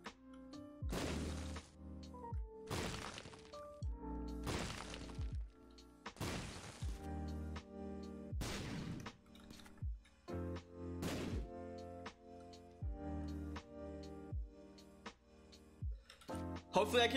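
Bombs going off in the video game The Binding of Isaac, a string of about eight sharp blasts at irregular intervals over a steady game soundtrack.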